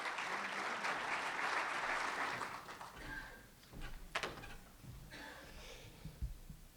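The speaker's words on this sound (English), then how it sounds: "Give him a warm round of applause" A crowd at a talk gives warm applause as speaker Jay Stringer comes up, a dense wash of clapping that fades after a few seconds into scattered claps and low thumps of movement.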